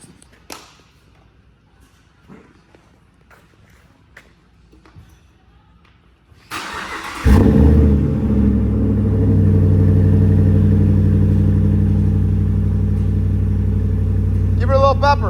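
A Ram 1500 pickup with a 5.7L Hemi V8 and PPE cat-back exhaust starts up after a few quiet clicks and people talking, then settles into a loud, deep, steady rumble close by.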